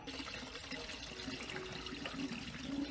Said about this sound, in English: Let's fill our coolant. Normally I vacuum fill stuff, but today we're pouring it in.